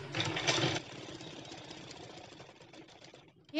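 A sewing machine stitches a fabric sling bag with a steady rapid mechanical whir, loudest at the start and then softer, ending in a brief louder clack.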